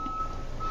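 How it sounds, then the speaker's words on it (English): An alarm sound effect, a steady high electronic tone held for under a second over a dense noisy background. "And you see alarms, sounds like this go off."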